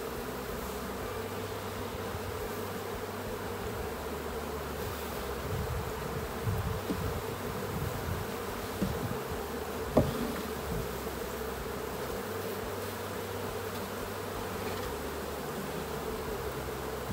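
A steady, dense buzzing of a honeybee swarm being collected from a shrub fills the whole recording, continuous and close, with a few faint knocks and shuffles partway through.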